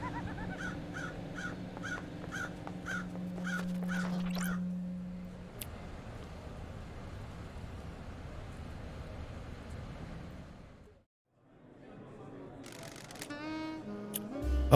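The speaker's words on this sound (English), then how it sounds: "I like the crows." Crows caw in a repeated series of harsh calls over a steady ambient background in the video game Paradise Killer. The calls are moderately distant and give way to a lower wash of sound, with no one talking.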